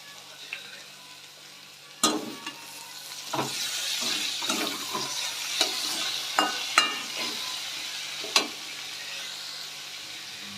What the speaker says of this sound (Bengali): সবজি প্রায় ভাজা হয়ে এসছে আমাদের।